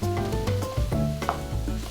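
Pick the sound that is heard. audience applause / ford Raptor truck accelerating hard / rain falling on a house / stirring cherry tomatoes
stirring cherry tomatoes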